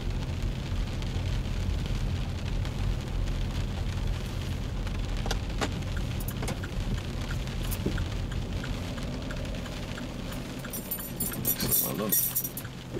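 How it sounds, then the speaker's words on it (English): Steady, constant rain drums on a car during a driving lesson, a dense even patter heard from inside the cabin with occasional sharper drops and no talking. "It's particularly depressing when the rain's like this, isn't it?"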